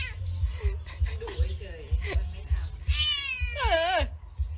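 A cat meows several times, the last calls rising and bending in pitch, with steady low rumbling noise underneath throughout.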